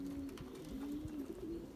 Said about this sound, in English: They're small pigeons with a small head and they won't leave.